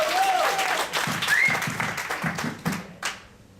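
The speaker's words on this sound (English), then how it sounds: "Give a round of applause." Applause breaks out from the audience at a Toastmasters club meeting as a debate speaker is called up, a steady wash of clapping that holds strong before tapering off near the end, with faint voices mixed in.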